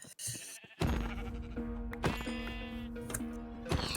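Several Minecraft sheep bleat in close succession, wavering cries repeating over a steady background, loud and near.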